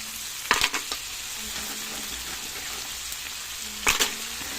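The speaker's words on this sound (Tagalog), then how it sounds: "Mix na natin guys yung ating tahong." Mussels in coconut milk sizzle steadily in a hot pan, with two sharp metallic scrapes and clatters from stirring near the start and again near the end.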